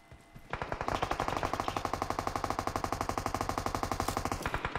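Sustained automatic rifle fire in the mobile battle-royale shooter PUBG Mobile, a rapid unbroken stream of loud, close shots lasting several seconds.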